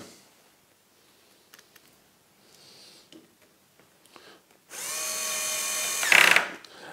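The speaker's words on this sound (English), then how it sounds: "I'm going to drill my first hole. And I'm using this drill." A power drill bores a hole in wood while drawer runners are being fitted. After quiet handling clicks, there is one loud, close whirring burst of about a second and a half that rises to a high whine before stopping.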